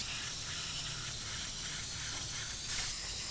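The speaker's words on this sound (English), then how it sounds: "runs his airbrush at about 25 to 30 psi, or pounds per square inch of pressure, generated by the air compressor" An airbrush fed by an air compressor at about 25 to 30 psi sprays paint onto a model figure, giving a steady, close, continuous hiss that runs unbroken throughout.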